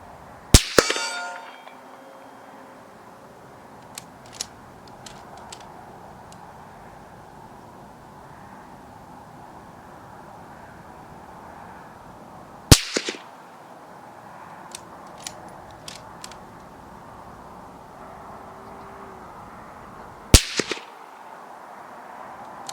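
Three sharp suppressed gunshots are fired through a large Hyperion suppressor, each a brief loud crack followed by a ringing tail, spaced roughly ten seconds apart with quiet in between.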